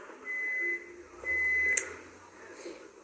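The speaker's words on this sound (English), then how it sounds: "It was the microwave." A microwave oven beeps twice with long, steady electronic tones separated by a short gap, fairly faint against a quiet room.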